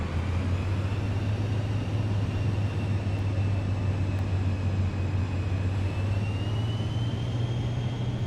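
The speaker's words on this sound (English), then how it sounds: "You gotta really give it a lot of power for it to start moving." A steady, loud engine drone with a low hum and a rising whine from a Vision Jet taxiing on the ground in Microsoft Flight Simulator 2024, constant throughout with no speech.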